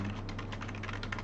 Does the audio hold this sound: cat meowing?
no